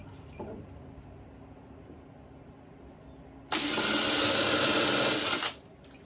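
A power drill countersinks a screw hole in wood for a homemade Chick-Nic table, running loud and steady for about two seconds after a quieter stretch of room noise.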